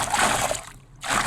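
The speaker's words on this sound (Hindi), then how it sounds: "इसी में मैं पानी डालूँगा और पानी के साथ में मिट्टी मिक्स करूँगा पहले" Water pours into a plastic bag used for mixing clay, a broad splashing gush that breaks off briefly and then resumes, close and loud with no talking.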